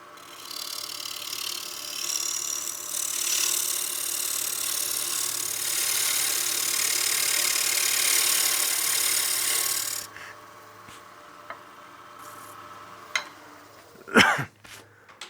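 A bowl being turned on a wood lathe with an Easy Wood Tools carbide tool, a steady abrasive scraping hiss for about ten seconds that then stops, followed by a few faint knocks and a brief louder clunk.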